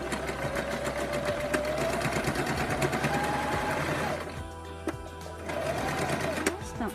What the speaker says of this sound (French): Et il ne reste plus qu'à piquer.